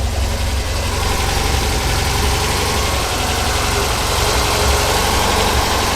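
A restored 1977 MGB Roadster's engine idles steadily and close by, with a constant low rumble and a slightly uneven tick throughout and no voices.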